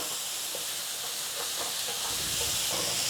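Ginger and garlic paste cooking in a pot for a lamb biryani, a steady close sizzle and hiss with faint crackles running throughout.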